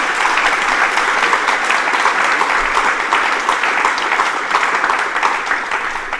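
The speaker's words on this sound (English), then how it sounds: "Can we just have another round of applause for all our award submissions and presenters?" A room full of people applauds award submissions and presenters at a sustainable drainage awards ceremony, with dense, even clapping holding steady throughout before tapering slightly at the end.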